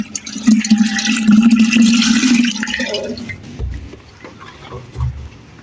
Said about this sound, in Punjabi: ਥੋੜਾ ਜਿਹਾ ਪਾਣੀ ਘੜੇ 'ਚ ਪਾ ਦਿਓ।